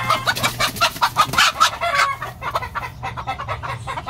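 Gamecocks (fighting roosters) clucking close by in short repeated bursts, with a low steady hum underneath.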